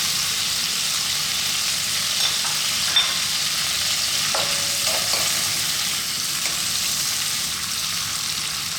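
Garlic, chili, pandan leaves and curry leaves sizzle steadily in hot coconut oil for a Sri Lankan prawn curry, a loud continuous frying hiss with faint stirring clicks.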